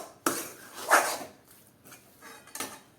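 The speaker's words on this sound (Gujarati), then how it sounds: "ચણાનો લોટ નાખ્યા પછી આપણે એકદમ સરસ રીતે મિક્સ કરીએ" A spoon clinks and scrapes in a bowl as gram flour is mixed into a bitter gourd stuffing, with a few separate close taps and knocks in a quiet room.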